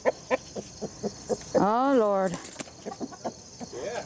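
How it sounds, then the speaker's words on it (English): A rooster newly brought into a backyard flock gives one loud, drawn-out call among short clucking sounds, and a person speaks briefly nearby. "Well, we got a rooster."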